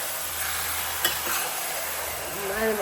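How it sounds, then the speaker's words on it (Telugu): Chicken pieces with oil and onions stirred in a pan, giving a continuous dense sizzle with one sharp spoon knock and faint scraping near the end. "ఈ ఆయిల్ ఆనియన్స్ మొత్తం అన్ని ముక్కలకు మిక్స్ అయ్యేటట్టుగా మంచిగా కలుపుకుందాము"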